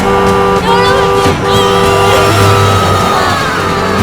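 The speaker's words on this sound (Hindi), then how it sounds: "अरे हॉर्न सुनाई नहीं दे रहा" Car horn honking on a street at a girl standing in the road, repeated loud toots close by, with a busy traffic din underneath.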